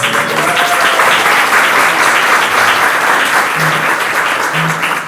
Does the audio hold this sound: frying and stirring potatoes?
no